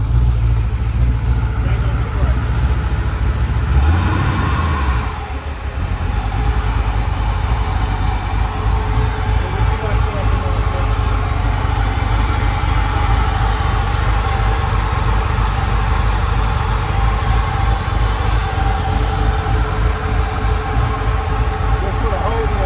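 A 408 cubic inch LS stroker V8 fires up for the first time in a 1988 Box Chevy on 28-inch wheels, idling loud and steady with a brief dip in the middle, while people talk over the rumble.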